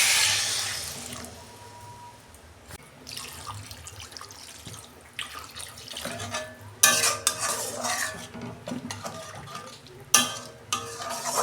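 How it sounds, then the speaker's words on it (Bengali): Water is poured into a pan of vegetables already fried with spices for a fish curry, setting off a loud hiss and sizzle followed by stirring and spoon scrapes, with bursts of splashing and clatter near the end; no one speaks. "আমি এবার জল দিচ্ছি,"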